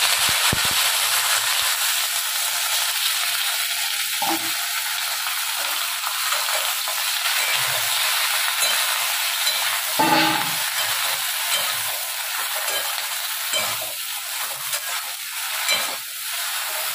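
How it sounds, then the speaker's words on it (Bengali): Okra frying in a pan gives a continuous, fairly quiet sizzle with occasional stirring scrapes and light clatter, lasting unbroken with no talk. "তো ঢেঁড়সগুলো একটু ভেজে নিই"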